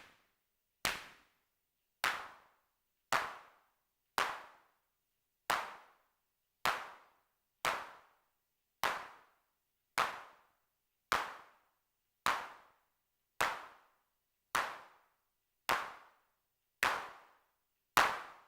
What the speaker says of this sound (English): That's not bad clap, right? It's a pretty good clap.